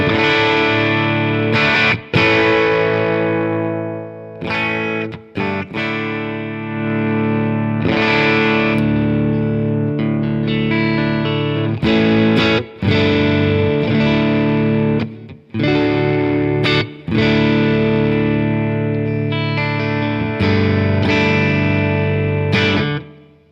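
Electric guitar played through an IK Multimedia ToneX One pedal straight into a computer, a distorted, effects-laden tone with strummed chords and sustained notes, brief pauses between phrases, loud and close for over twenty seconds.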